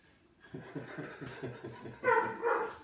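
A ten-year-old dog recovering from spinal surgery fusses with a rapid series of soft, whiny yips and grumbles, close by and indoors, as people chuckle and laugh near the end.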